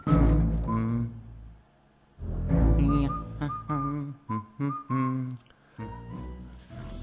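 Luigi whistles and hums a tune in the Luigi's Mansion video game, a loud, close melody running through several short phrases with brief pauses between them.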